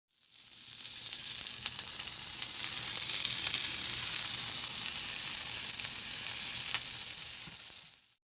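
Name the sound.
pork belly (samgyeopsal) sizzling on a grill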